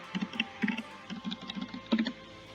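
A password being typed on a computer keyboard, with a quick irregular run of light key clicks, close and moderately quiet, with no talk.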